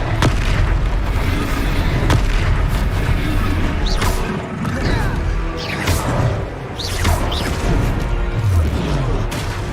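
Confringo blasting spell explosions in Hogwarts Legacy, loud repeated booms and crashing impacts over a dense battle din, with sharp hits recurring every few seconds.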